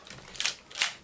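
A Nikon F2, an all-metal film camera, gives two sharp mechanical clicks about half a second apart, close and crisp with no talk.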